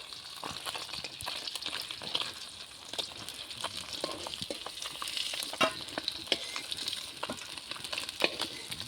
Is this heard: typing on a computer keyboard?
no